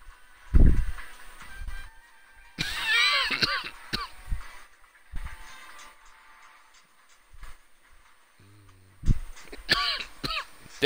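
Several rough throat-clearing coughs from one person, scattered across a quiet stretch: a sharp burst early, more in the middle and a cluster near the end, close and fairly loud, with some short breathy noises in between.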